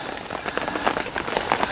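Rain drums steadily on a tent during a carp-fishing trip on a French riverbank, a dense close patter of drops with no voices.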